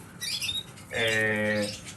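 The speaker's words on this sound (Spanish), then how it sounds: "Aquí descansando los pajaritos de sobreaños, tanto machos como hembras." Pet birds in an aviary, older males and females resting, give a brief squawking call followed by a louder sustained chirp, close and alone.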